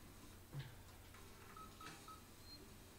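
A telephone save point in a video game gives a few short, quiet electronic beeps and dial tones at a low level, with no talk.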